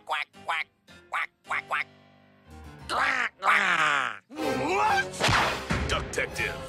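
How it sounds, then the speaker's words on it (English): A cartoon duck quacks in a run of short, nasal bursts, followed by longer, strained squawking calls that sound voiced by a performer, loud and close. "Quack, quack, quack, quack."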